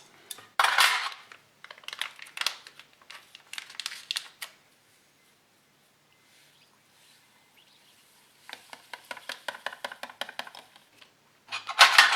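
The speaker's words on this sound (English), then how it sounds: "these are just a couple of spoons from the kitchen" Light metallic clinks and taps in quick bursts, like spoons knocking together, with a quiet pause in the middle before the clinking resumes.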